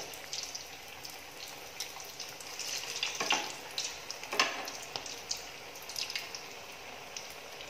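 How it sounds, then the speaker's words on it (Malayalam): Beef cutlets frying in hot oil in a pan for an iftar meal, a steady soft sizzle with scattered crackles and pops, fairly faint and close, with no talking. "ഇനി ഒരു ഭാഗം കൂടി ഫ്രൈ ആയി കഴിയുമ്പോൾ നമുക്കിതൊന്ന് കോരി മാറ്റാം"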